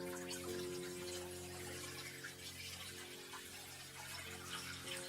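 During an aquarium water change, water flows onto a piece of wood inside a tank. It makes a steady, close, continuous splash and trickle, with a low hum of equipment underneath and no speech.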